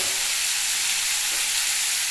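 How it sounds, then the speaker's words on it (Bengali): Peanuts frying in a pan for spicy semolina give off a steady, close sizzle with an even hiss, heard alone with no talk. "বাদামটা একটু ভাজার জন্য রাখতে হবে একটু নরম ভাজা হতে থাকুক"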